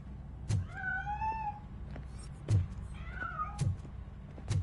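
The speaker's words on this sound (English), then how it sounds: "That cat must be hiding inside." A cat hiding inside a piano in the video game RoboCop Rogue City lets out two drawn-out meows, interspersed with dull wooden thunks and knocks close by.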